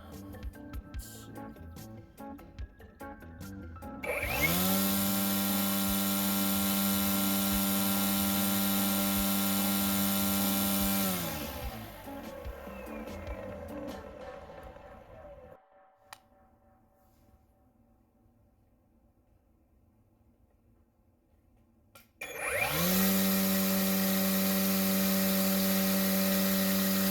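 An Ego battery string trimmer, carbon fiber and aluminum shaft versions, whines up to high speed, holds a loud steady tone, winds down to near silence, then spins up to high again.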